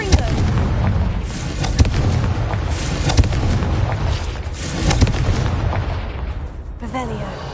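Repeated Confringo fire-spell blasts in Hogwarts Legacy, a dense run of booming explosions and crackling bursts that stay loud for several seconds, with a voice speaking over them.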